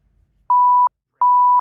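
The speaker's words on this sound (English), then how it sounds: "so that's just gonna sound like beep beep." Two clean censor bleep tones, each under half a second and separated by a brief gap, sound alone and loud over near silence in a radio interview about Jersey Boys.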